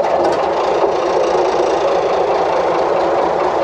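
An Alvis Stalwart six-wheel-drive military truck's engine runs loud and close with a steady, rough, dense roar and a faint knocking rattle, holding constant throughout with no voices.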